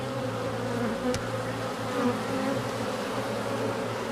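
A steady, dense drone of many honeybees buzzing close by, continuous and even throughout.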